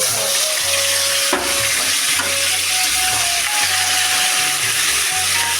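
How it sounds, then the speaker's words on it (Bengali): Salt-and-turmeric-coated fish frying in hot oil in a wok, a loud continuous sizzle with low clunks and scraping from handling the pan. "আমি কড়াইয়ে তেল বসিয়ে দিয়েছি এখন এই যে মাছগুলোকে নুন হলুদ মাখিয়ে নিয়েছি এবার মাছগুলোকে দিয়ে দেবো"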